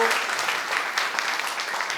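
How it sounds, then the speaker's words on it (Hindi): Steady applause from an audience at a Buddhist vihara gathering in Raipur, a dense, even wash of many hands clapping that holds at a constant level throughout. "एक बार ज़ोरदार तालियां आप बजा ही लीजिए"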